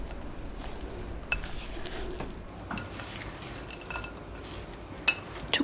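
Chocolate pieces are folded into cookie dough in a bowl, with a spatula or spoon scraping and clinking against the bowl at a steady, unhurried pace, close by and quiet, with no talking.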